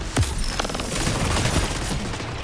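Gunfire rattles through a multiplayer Iron Banner match in Destiny as rapid, close bursts of automatic fire and single shots mixed with booms. It runs dense and loud throughout with no voices.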